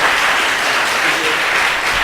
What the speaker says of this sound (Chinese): 我们用最热烈掌声来欢迎廖长老来到我们当中